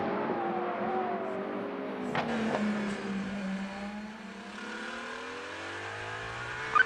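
Aston Martin Valkyrie hypercar at Spa racing through qualifying, its engine revving steadily and shifting pitch as it passes, heard at moderate distance with no talk.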